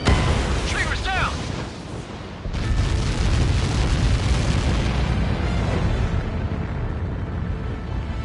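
Missile explosions in Ace Combat 7: Skies Unknown, heavy booming blasts and rumbling roar mixed with jet noise, loud and continuous, with radio voices and a warning tone over the top.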